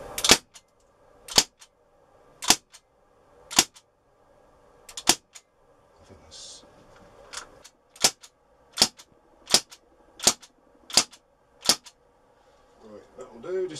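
CO2 air pistol shots during a power test, Gamo PT85 or Crosman 1077: about a dozen sharp, loud cracks in a steady sequence with short pauses, plus quiet handling noises between shots and no talking.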